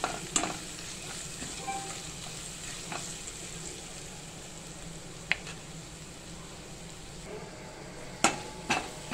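Ginger garlic paste sautés in a hot pan with a steady sizzle, broken by a few sharp taps and clinks of the spoon against the pan. No voices.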